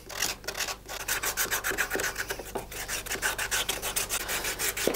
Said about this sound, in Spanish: ahora vamos a pasar ya a la lija fina para dejarle más refinado, bien refinado